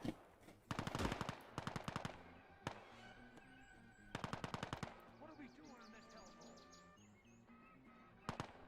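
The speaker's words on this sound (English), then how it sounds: "Actually, we're taking fire from over here." Gunfire in the Vietnam War strategy game Gates of Hell: Vietnam, with loud bursts of automatic fire and single shots in repeated volleys over several seconds, plus a background ambience with faint bird-like calls.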